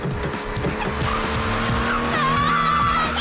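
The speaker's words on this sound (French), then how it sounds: "C'est pas moi, c'est la voiture. J'arrive plus à la contrôler." Cartoon car speeding out of control, loud racing engine roar with sustained squealing tires skidding and a rising screech near the end, close and continuous.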